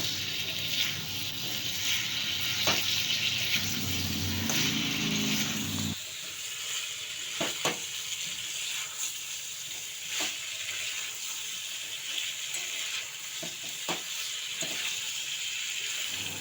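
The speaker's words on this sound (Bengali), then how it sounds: "আর আগে থেকে ভেজে রাখা আলুগুলো এবার একটু মিশিয়ে দেবো সব কিছু দিয়ে ভালো করে নাড়াচাড়া করে আবারও কষিয়ে নিতে হবে" Jackfruit, prawns and fried potatoes are stirred and sautéed together in a pan, a moderate frying sizzle with intermittent scrapes and knocks of the spatula, busier at first and then thinner and steadier.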